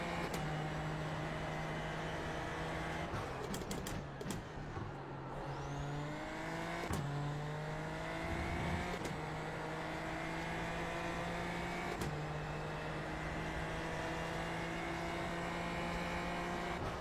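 A Super Formula Lights race car in iRacing drives on, its engine droning loud and steady while it climbs through the gears with a sharp shift every few seconds and pitch rising in between; no voices are heard.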